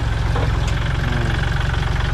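A used Kubota L36DT tractor engine idles steadily up close, a constant low rumble with a rapid mechanical knock and no voices.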